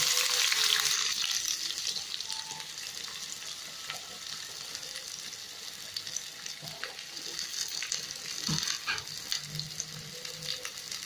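Onions fry in a pan for Arabian biryani (majboos), giving a loud hissing sizzle that is strongest at the start, then a steady crackle broken by stirring scrapes, with no talking.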